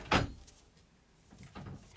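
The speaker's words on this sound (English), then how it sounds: "Well, Colin, close that door." A door closing in a room during a Red Dead Redemption 2 Q&A and autograph session: a sharp, fairly close thud at the start, then quiet, and a softer bump and rattle near the end.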